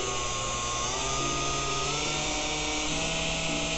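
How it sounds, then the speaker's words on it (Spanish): A DC motor spins steadily on an instrumented test support stand, giving a continuous loud whirring hum with stable tonal lines whose pitch shifts slightly as the speed changes, with no talking. "Se encuentra el motor girando."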